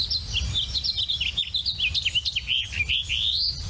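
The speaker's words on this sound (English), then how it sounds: "Listen to the very end of the song. You'll hear this rising breeze." A house finch sings a lively, warbling run of bright chirps and slurred notes that ends on a rising buzzy phrase, close and clear over a low outdoor rumble.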